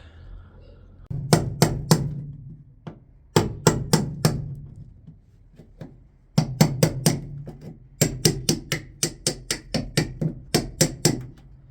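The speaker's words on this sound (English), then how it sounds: "I don't have dry ice, so I'm just using a chisel" Steel chisel struck repeatedly against a BMW E30 325i body panel to knock off surface rust, sharp metallic hammer-like taps in several rapid bursts, close and loud, with no talking.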